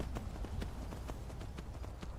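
Horse hooves from the Skyrim video game clip-clop in a steady, rhythmic gait, each hoof strike sharp and close over a low rumbling background.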